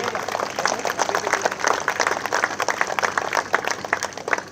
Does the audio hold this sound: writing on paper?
no